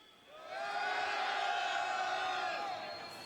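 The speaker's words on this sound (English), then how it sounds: "If you're in Hall B, let me hear a scream." A convention hall crowd at CitizenCon, a Star Citizen fan event, erupts in a loud sustained scream and cheer that swells quickly, holds for about two seconds, then fades.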